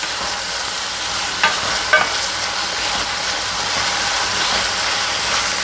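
Chopped tomato pieces frying in a pan for a methi chicken dish, a loud, continuous sizzle with a couple of brief utensil taps near the start.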